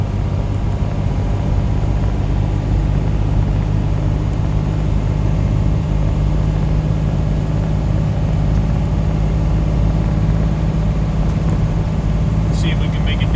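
Truck engine holding about 2,000 RPM with the Jake brake engaged, a steady, loud low rumble heard from inside the cab, with someone talking over it.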